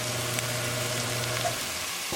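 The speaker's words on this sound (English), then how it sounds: "Cook tomato puree with tadka really well" Tomato puree cooking with tadka in a pan gives a dense, continuous sizzle and bubbling, close and steady, with a faint stir near the end.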